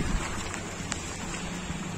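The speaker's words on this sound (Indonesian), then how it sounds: "Alhamdulillah turun hujan." Rain falls steadily outdoors on a street in a residential housing complex, a continuous close hiss with occasional sharper drops and no talking.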